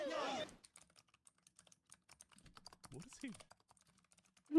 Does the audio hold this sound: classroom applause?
no